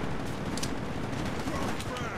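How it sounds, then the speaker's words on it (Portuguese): Gunfire in Call of Duty: Black Ops, dense continuous automatic shooting with overlapping rapid reports and a constant loud roar throughout, mixed with other battle noise. "Já entrou atirando, ó, ó."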